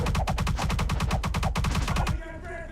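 Rapid automatic gunfire in a video game rattles out as a fast, evenly spaced burst of around a dozen and a half loud shots. It cuts off abruptly, leaving quieter ambient game sound behind.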